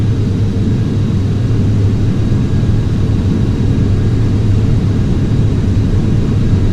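Aircraft engines roaring steadily during a takeoff roll in the FSX flight simulator game, a loud, constant low-heavy drone with no break.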